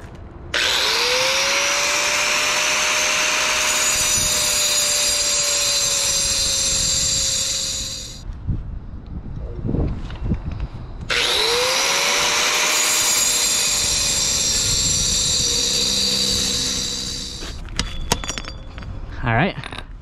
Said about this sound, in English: let's grind this thing off